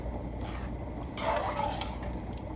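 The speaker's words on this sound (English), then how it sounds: "you just want to keep mixing it" Creamy cheese sauce for Haitian macaroni au gratin being stirred in a pot, a soft wet swirling scrape that swells briefly midway over a steady low hum.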